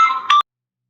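A doctor's phone rings with an incoming call about a patient: a brief, bright electronic ringtone, loud and close, that cuts off abruptly after under half a second and leaves silence.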